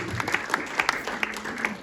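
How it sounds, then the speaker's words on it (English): An audience at a pre-Chanukah panel event in a Mizrachi synagogue applauds in a short burst of distinct, fairly close hand claps, with a soft murmur of voices underneath. "So a huge clap for all of you."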